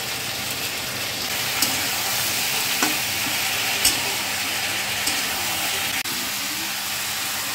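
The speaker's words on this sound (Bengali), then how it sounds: "মশলাটা দিয়ে ভালো করে সবজিটাকে কষিয়ে নিচ্ছি" Vegetables fry with spices in a pan, giving a dense, continuous hissing sizzle at close range, broken now and then by light clicks of a stirring spoon.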